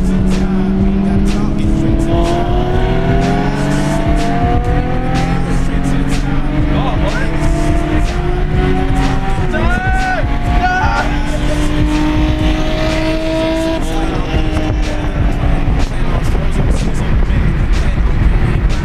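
A Ford Falcon racing a Honda NSX on a track: loud, continuous engine roar with rising and falling revs as gears change, plus tyre noise throughout, with no gaps.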